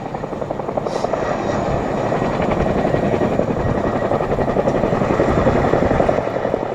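A Boeing CH-47 Chinook tandem-rotor helicopter flying and hovering at an air display gives a loud, steady rotor thump and turbine roar that stays near and constant throughout.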